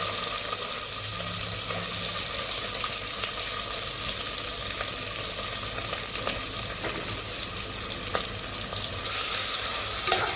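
Onions sizzle in a little oil with cinnamon, cloves and other whole spices in a pressure cooker, a steady, close hiss of frying that runs unbroken, with occasional faint scrapes and clinks of stirring.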